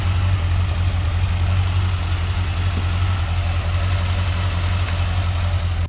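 A Corvette's engine idles steadily just after a jump start from a 3000-amp jump starter, a continuous low rumble held at an even level with no talk over it.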